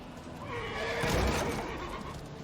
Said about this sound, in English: The horse lets out a snarl and rushes off.